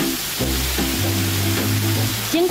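Potstickers pan-fry at a Tainan food stall, their bottoms crisping in a steady, close hiss of sizzling oil that runs the whole way with no voices.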